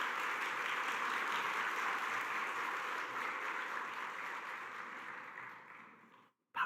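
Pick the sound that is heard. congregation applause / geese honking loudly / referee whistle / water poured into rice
congregation applause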